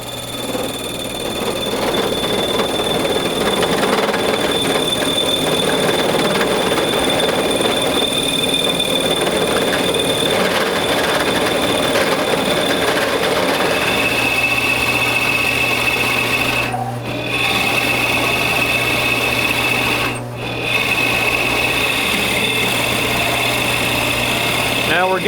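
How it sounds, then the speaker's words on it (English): A large drill bit bores a 2 3/4-inch hole into maple wood to form a bass drum shell, a loud continuous grinding rasp with a steady low hum, briefly dropping out twice as the bit bogs down in the big cut. "we're going to start drilling the hole into here"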